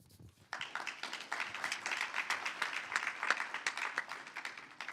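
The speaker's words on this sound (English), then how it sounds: "I would ask the graduate to join me in the round of applause." Round of applause at a BSBI summer graduation ceremony, scattered claps opening into steady, moderately distant clapping from the audience that carries on without talk.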